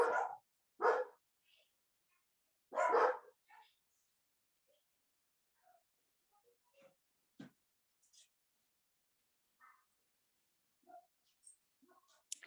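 A few sharp barks ring out early, then scattered faint yips and small noises fill a mostly quiet stretch.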